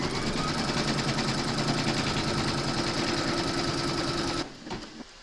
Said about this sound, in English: Then pop your hoop into your machine and stitch round number 1, and that's going to give you your placement outline